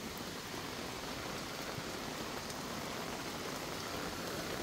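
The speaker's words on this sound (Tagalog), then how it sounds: "Grabe, ang lakas ng ulan." Heavy rain pouring down in Taiwan during a storm, a dense, steady wash of drops hitting surfaces without letup, fairly distant and even in level.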